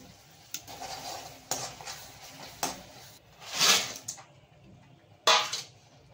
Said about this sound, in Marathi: इकडे फोडणी द्यायची आता काळ्या खेकडीला.